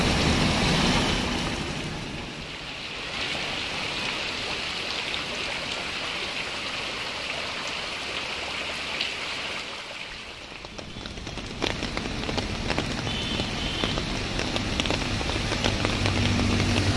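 Heavy rain pours steadily over a flooded city street in Bhiwandi, a dense continuous hiss that shifts slightly in tone partway through and continues without pause.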